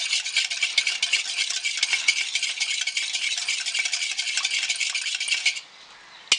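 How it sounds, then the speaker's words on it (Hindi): A whisk beats cooled melted butter in a bowl for a white sponge cake batter, making rapid, continuous metallic scraping and clicking for about five seconds before stopping abruptly. "रूम टेम्परेचर में ठंडा होने के बाद इसे हम फेंटेंगे, अच्छी तरह से मिक्स कर लेंगे।"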